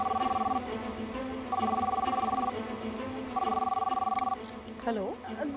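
A phone call to a school rings in three long, evenly spaced electronic ringback tones with short pauses between, followed by a voice picking up and talking.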